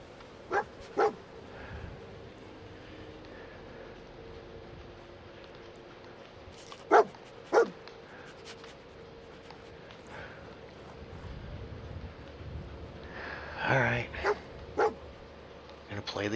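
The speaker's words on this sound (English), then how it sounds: "How long is he gonna have to bark before I..." Dogmeat the dog barks in the video game Fallout 4: several sharp, separate barks spaced across a quiet game backdrop, with a brief burst near the end.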